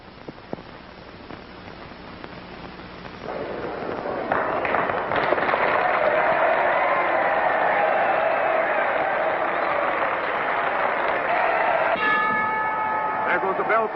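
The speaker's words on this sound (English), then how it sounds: "There goes the bell for the main event." A ring bell starting the main event at a wrestling match, with loud crowd cheering and applause building and sustained throughout, and a bright ringing tone cutting through near the end.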